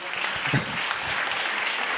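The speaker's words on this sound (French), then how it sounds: "Vous pouvez applaudir Barbara Cassin une deuxième fois." Audience applause at a literary prize ceremony, the Quai d'Orsay literary prize, heard as a steady wash of clapping from a seated crowd at moderate level, continuous through the short stretch with no distinct voices.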